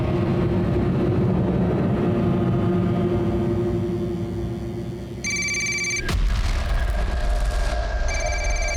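A telephone rings in short electronic bursts over a loud, steady engine-like rumble, then the ring cuts out before starting again.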